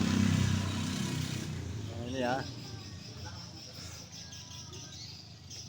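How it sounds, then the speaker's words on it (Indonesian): A Honda Vario scooter runs with a rough noise coming from its CVT housing, a steady low engine rumble that eases off partway through, with someone speaking briefly over it. "di sini ada permasalahan sedikit ya di bagian bak CVT-nya, suaranya kasar seperti ini ya teman-teman"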